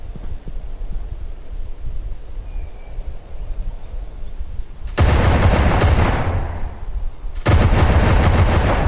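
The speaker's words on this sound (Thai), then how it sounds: "เสียงปืนโคตรกระหึ่มเลย" Two loud bursts of rapid gunfire in the FPS shooter War After, the first about two seconds long and the second near the end, over a low background hum.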